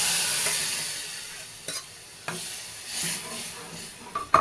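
Dal and drumstick pods cooking in a hot pan for a spicy amti, a steady soft sizzle with a few sharp stirring scrapes and clatters, close and alone with no voices.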